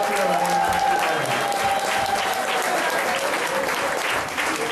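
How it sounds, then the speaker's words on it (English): An audience at a celebration-of-life gathering breaks into a long, even round of clapping for young performers, the applause loud and continuous throughout. "give them a long round of applause"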